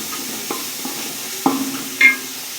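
Onions browning in a pan for khichuri, a quiet sizzle broken by a few sharp stirring knocks and scrapes, close by and without talk.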